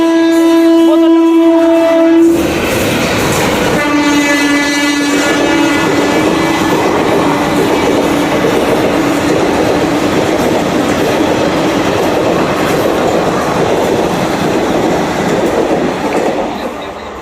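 A train pulls into platform four of a railway station, opening with a long, loud horn blast before rolling rumble and clattering wheels dominate; faint voices sit beneath the noise.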